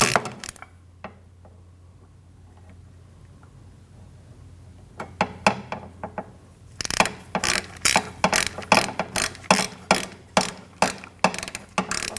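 A hand ratchet tightens the driveshaft bolts on a 2013-2019 Ford Escape, starting after a quiet stretch with a few clicks, then a long run of loud, rapid, close clicking in steady bursts.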